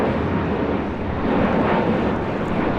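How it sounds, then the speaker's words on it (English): Spirit Airlines A320neo jet taking off from LAX, a broad, steady engine roar that stays loud and even for a few seconds, with no talk over it. "1043 taking off to San Antonio on an A320neo."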